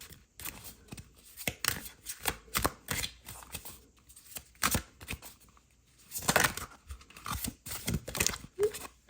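Tarot cards riffle and slap in quick repeated bursts, close and crisp, with short pauses between handfuls as a deck is overhand shuffled by hand.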